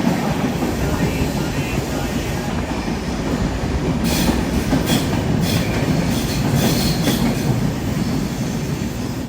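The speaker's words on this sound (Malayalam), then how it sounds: "ട്രെയിൻ നല്ല സ്പീഡിൽ തന്നെയാണ് പോകുന്നത്." A Humsafar Express train moving at speed, its wheels clattering steadily on the rails with a constant loud rumble and faint squeals throughout, no talking.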